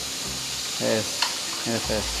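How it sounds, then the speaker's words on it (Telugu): Ingredients for a kaju mushroom masala curry fry in oil in a pan with a soft, steady sizzle, while a voice speaks briefly over it in short bursts. "ఇలా ఫ్రై చేద్దాము"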